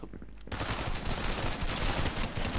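Rapid, dense automatic gunfire from the video game Fortnite erupts suddenly after a brief quiet moment and keeps going steadily and loudly to the end.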